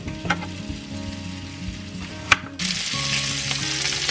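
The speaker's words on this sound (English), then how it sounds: "Once your sausage starts browning nicely" Kielbasa sausage browning in a pan with green beans and potatoes, a steady close sizzle with a low hum beneath, a couple of sharp utensil clicks, then a brighter, louder hiss of frying for the last stretch.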